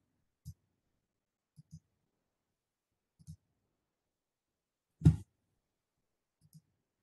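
Computer mouse clicking during an online webinar, five short isolated clicks spread across the stretch with silence between them, the fourth louder and sharper than the rest, and no voice heard.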